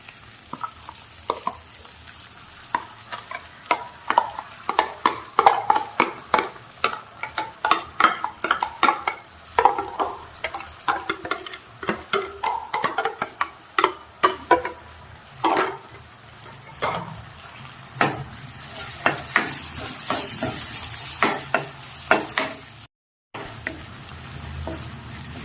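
Garlic chutney sautéing with crushed chilli, tomato and ginger in a pan, heard as a low sizzle under repeated rhythmic scraping and stirring strokes, close by, ending in a brief cutoff.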